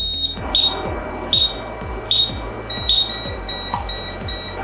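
An Ajax security system alarm during a gas leak detection beeps repeatedly in a fast, steady pattern of high tones over a rhythmic pulsing hum, loud and close, with no talking.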